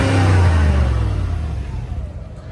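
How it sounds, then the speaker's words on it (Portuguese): A V8 car engine revs loudly up close, a deep throaty roar that peaks early and then winds down and settles over a couple of seconds, with no talk. "O barulho de V8 bem diferente"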